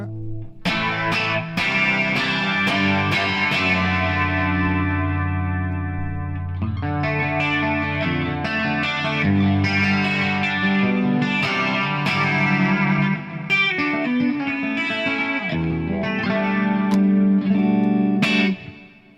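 Electric guitar played through a Fractal FM3 with heavy distortion and a shimmering chorus effect, sustained chords and notes ringing loud and continuous throughout.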